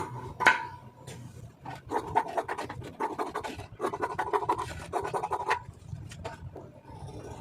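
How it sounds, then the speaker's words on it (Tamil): Scissors snip through blouse lining fabric in a run of close, scratchy cuts with short pauses between strokes; no voices are present. "இப்போ ப்ளவுஸ் வந்து கட் பண்ணிடலாம்"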